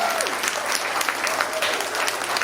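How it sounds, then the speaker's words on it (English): An audience claps for the women who helped out, a dense, steady burst of applause from many hands at close range that fills the whole moment. "give these ladies a clap as well too"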